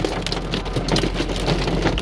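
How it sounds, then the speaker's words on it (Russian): Hail pelts the hood of a car during a drive home from work, a dense, continuous rattling patter very close and loud with scattered sharper hits and no voices. "На улице град пошел."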